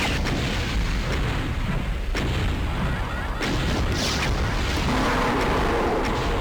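Rocket launcher blasts and explosions at the Icon of Sin level of Doom II, a dense continuous roar of booming detonations with several sharper hits standing out, loud and unbroken.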